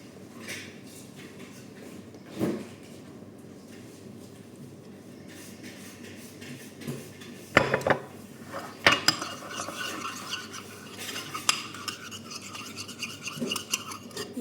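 A spoon stirs and scrapes a spiced sauce mixture with chilli powder and sauces in a bowl, giving soft irregular rubbing and a few sharper clinks that come close and clear, with no talking.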